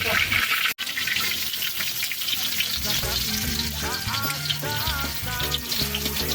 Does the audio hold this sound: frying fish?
yes